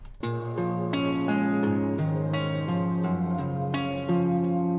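Plucked guitar sample notes ring out one after another in a slow melodic pattern, clean and dry with no echo or reverb, each note decaying naturally.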